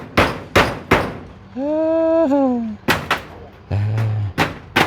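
Loud, close hammer blows ring on metal sheeting in short clusters, with a person's drawn-out voice sounding in the gaps between strikes.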